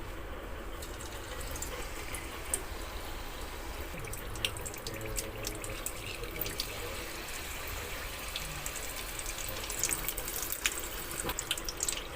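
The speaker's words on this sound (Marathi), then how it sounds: "तेल गरम झाले. आता यामध्ये समोसे फ्राय करून घेऊया." Chicken samosas deep frying in hot oil, a continuous faint crackling and bubbling sizzle with scattered small pops, steady throughout and heard alone.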